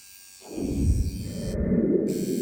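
A low, coarse buzzing from a Neuma 5 Flex tattoo machine starts abruptly and runs steadily for a couple of seconds, close and fairly loud, with no voices.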